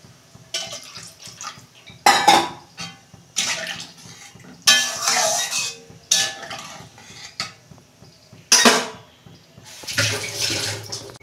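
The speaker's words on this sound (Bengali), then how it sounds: "এই যে সবজিগুলো আমার কষানো হয়ে গেছে, তেল ছেড়ে গেছে, আমি পরিমাণ মতো জল দিচ্ছি।" Water is poured in bursts into a pan of sautéed vegetables for a home-style fish curry, with splashes and clinks of a utensil against the pan recurring through the clip.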